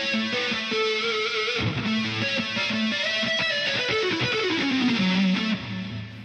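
Electric guitar run through the chorus effect of a Roland GP-16 processor, a sustained shimmering, distorted tone with melodic notes sliding and bending, loud and continuous with no voices.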